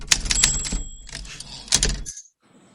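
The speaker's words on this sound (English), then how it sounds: "So I guess, Paul, we're ready for that typewriter again." Typewriter sound effect: a close burst of clacking keystrokes, then a pause, more key strikes and a bright carriage bell ring before silence.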